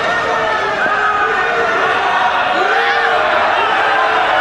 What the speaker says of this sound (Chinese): 现场观众不停的在起哄啊